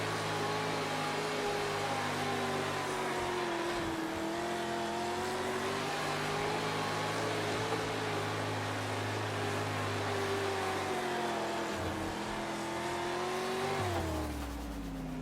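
A dirt race car in a World of Outlaws racing game runs a lap, its engine a sustained loud drone with revs rising and falling through the corners, then easing off at the end.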